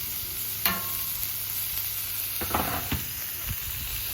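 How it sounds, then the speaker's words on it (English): Bacon sizzles on a Camp Chef flat top griddle, a steady close frying hiss throughout with a few light clinks and scrapes of a utensil, and no talking. "While our bacon's cooking"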